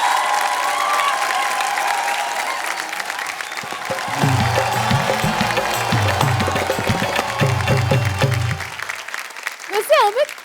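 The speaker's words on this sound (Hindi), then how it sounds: "जिसमें बजे श्रोताओं की जोरदार तालियां" A studio audience at a comedic poetry gathering on a TV family show breaks into strong applause, a steady clapping wash with talk and laughter woven through, ending with a brief whistling flourish.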